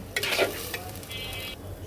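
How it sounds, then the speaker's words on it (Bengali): Raw rice being lightly fried and stirred in a pan for chicken biryani: a short, close burst of sizzling with scraping spatula strokes. "তো চলো চালটাকে একটু হালকা ভেজে নিই"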